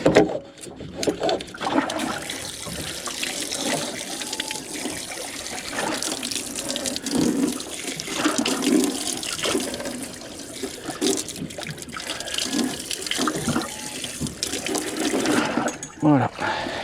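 Running tap water pours steadily over a freshly bled sea bream as it is rinsed, a continuous close splashing wash that shifts as the fish is moved, with a voice speaking over it.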